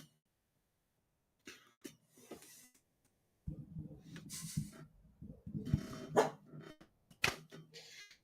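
A dog barks at something it hears outside, giving a few short, sharp barks and coughy yips at moderate distance in an otherwise quiet indoor room.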